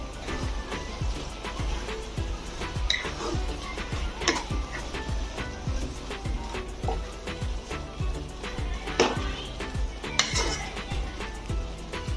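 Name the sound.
stirring jute leaf greens in a pot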